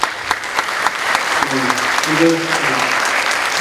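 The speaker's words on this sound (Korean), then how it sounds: "우리 사모님께 박수를 한번 부탁드리겠습니다" A church congregation applauds during a Sunday worship service, a steady wash of clapping from many hands while someone speaks over it.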